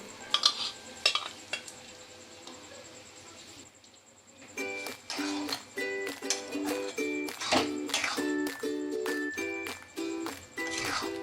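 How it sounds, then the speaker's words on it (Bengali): A metal spoon stirs boiled eggs into tarka dal in a pan, clinking and scraping against the pot in irregular bursts after a quiet moment, with a soft sizzle underneath. "দিয়ে ভালো করে নাড়াচাড়া করে নিচ্ছি।"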